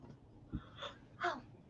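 A brief, soft, breathy exhale with a faint drawn-out vocal tone, close and quiet, like someone yawning.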